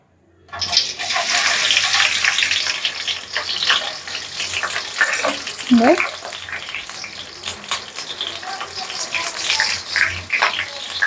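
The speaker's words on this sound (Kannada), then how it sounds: "ಇದು ಒಗ್ಗರಣೆಗೆ ಈರುಳ್ಳಿ, ಹಸಿಮೆಣಸಿಕಾಯಿ, ಕರಿಬೇವಿನ ಸೊಪ್ಪು ಹಾಕೊಳ್ತಾ ಇದ್ದೀನಿ" Onion, green chilli and curry leaves hit hot oil for a tempering and burst into a loud, continuous sizzle. It hisses steadily up close with scattered crackles for several seconds.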